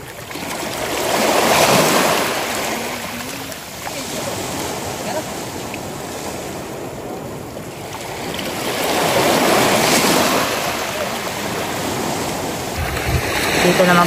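Sea waves wash onto a beach in a steady roar that swells and recedes twice, loud and close, with faint voices at a photoshoot mixed in.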